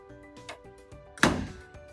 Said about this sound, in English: Now we need to shut the door so the machine will run